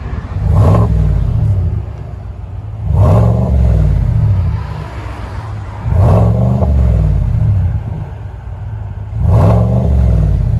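GMC Sierra Denali pickup with a 6.2L V8 and aftermarket exhaust, revved repeatedly while parked: four loud, throaty swells a few seconds apart, each rising and falling back to a deep idle rumble, with no one speaking.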